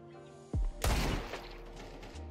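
A Counter-Strike 2 gunshot lands a headshot: one sharp, loud crack with a brief echoing tail over a steady background hum, following a softer thump just before it.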